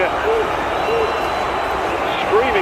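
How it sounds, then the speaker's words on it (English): Roaring football crowd at an FA Cup match between Southampton and Leicester City, a loud continuous stadium din with whistles and rising shouts, a commentator talking over it. "crowd screaming"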